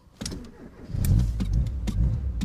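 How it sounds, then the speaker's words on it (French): The engine of the custom Vega Missile car, built on a Ford, cranks with a few clicks and then catches, rising into a loud, rumbling idle with sharp bursts close by. "je mets le contact et j'appuie sur le bouton rouge"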